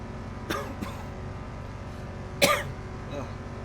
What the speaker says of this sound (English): Starting to believe this cough is permanent